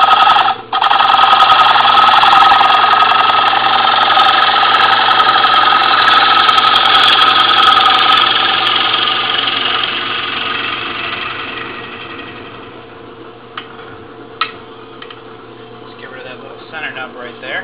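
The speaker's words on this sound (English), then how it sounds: "So turn off the lathe here" A wood lathe turning a bowl runs with a steady, loud mechanical whine and hum that gradually winds down and fades as the machine is switched off, with a faint click near the end.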